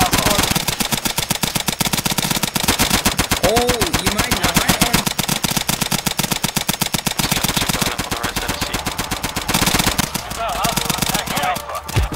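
Rapid suppressed automatic fire rattles almost continuously in the Insurgency video game, a dense loud run of muffled shots with brief pauses near the end, while players talk over it.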